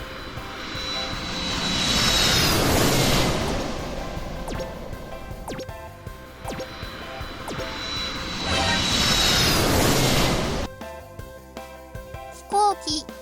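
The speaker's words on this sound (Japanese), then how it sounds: "Airplanes fly in the sky." An airplane engine roars in two swelling passes, loud and rumbling as each fly-by rises and fades. A few small chiming tones follow at the end.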